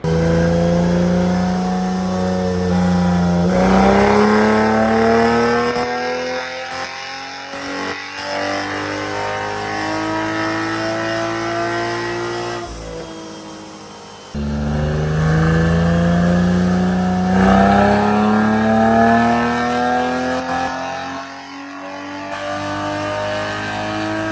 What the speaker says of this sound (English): we'll probably just pick this up right as the car's doing some pulls